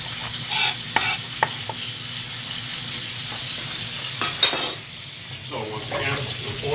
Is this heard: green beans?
yes